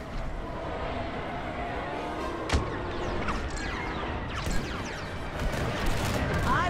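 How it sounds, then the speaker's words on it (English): Enemy blaster fire in Star Wars: Squadrons, rapid zapping shots crackling over a steady roar of space combat, with a sharp loud burst near the middle and more volleys toward the end. "They're shooting at me!"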